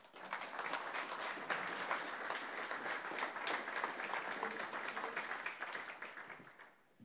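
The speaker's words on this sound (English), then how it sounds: "So please give a round of applause" Sustained applause from a large crowd at an FIS gala evening, steady and full for several seconds before fading out at the end; no voices stand out.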